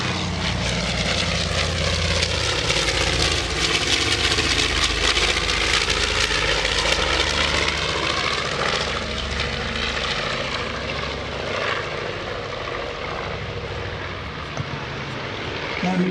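North American B-25 Mitchell bomber piston engines making a photo pass at the 2016 Greenwood Lake airshow: a loud, continuous, rumbling drone that swells and eases slightly over sixteen seconds and fills the whole clip.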